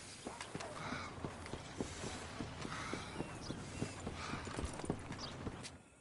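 In Red Dead Redemption 2, a horse's hooves clip-clop at a steady, regular pace, faint and slightly distant, with creaking tack and light wind behind them.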